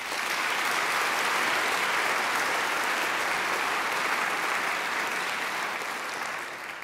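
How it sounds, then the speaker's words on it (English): A graduation ceremony audience applauds alumni volunteers in a long, dense wash of steady clapping that fills the hall at full strength, then eases slightly near the end, with no voices over it. "I think they deserve a round of applause too."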